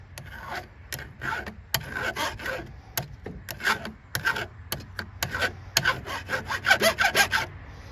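A chainsaw chain tooth is filed by hand in a series of close, rasping strokes, each a short scraping burst with brief gaps, speeding up toward the end.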